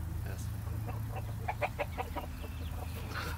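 Chickens clucking in a coop, a quick run of short clucks over a low steady hum, faint and close.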